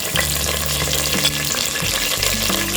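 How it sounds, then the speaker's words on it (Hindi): Ten to twelve curry leaves dropped into three tablespoons of hot oil for Mumbai-style misal pav: a loud, continuous close-up sizzle and crackle of frying, with a low steady hum beneath. "तेल गरम हो गया है। अब हम इसमें डालेंगे 10 से 12 कड़ी पत्ता"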